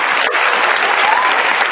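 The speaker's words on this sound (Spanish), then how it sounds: "te ha ganado un fuerte aplauso" Strong audience applause at a science talk, a loud, dense, even roar of many hands clapping that holds steady without pause through the short moment.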